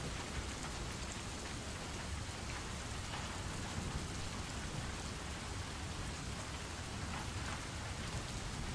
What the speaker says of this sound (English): that's the story of how I started listening to Rain in my stream